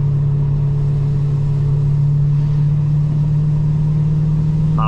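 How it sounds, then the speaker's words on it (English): BMW E92 M3 engine pulling at full throttle in second gear on a wet road in rain, a loud steady droning engine note held close up throughout with a constant low hum and road rumble. "Let's see what happens full throttle in wet conditions. Second gear."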